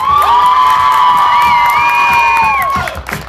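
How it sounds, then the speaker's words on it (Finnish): A live show audience cheers and whoops, with shrill sustained shouts and whistle-like cries riding over crowd noise before tapering off near the end. "Aplodit Jukalle, hää?"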